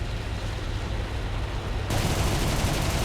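Aircraft cannon and machine-gun fire from a Bf 109 G-14 fighter in War Thunder, a continuous roaring burst under engine noise that suddenly grows brighter and heavier near the end.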